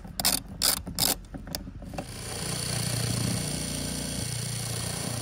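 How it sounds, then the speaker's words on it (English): A ratchet wrench backs out a 10 mm bolt on a Toyota Tacoma during an amp install, giving several quick bursts of close, sharp clicking before a low, steady mechanical hum takes over. "So what we're going to do is actually remove that 10 millimeter bolt."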